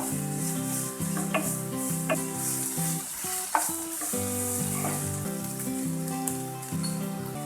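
Onion frying with ginger-chili paste in a pan, a steady, loud sizzle with occasional stirring knocks. A sustained musical tone runs underneath throughout, with no talking.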